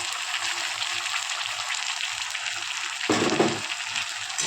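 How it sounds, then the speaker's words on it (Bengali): Fried onion with tomato, green chili and ginger paste sizzles steadily in a pan while being stirred, a continuous close hiss with a brief louder scrape of stirring near the end. "দিয়ে এটা নাড়াচাড়া করব।"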